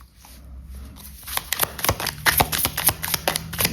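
Tarot cards are shuffled and drawn by hand, starting with quiet handling and building into a rapid run of close, crisp riffling snaps.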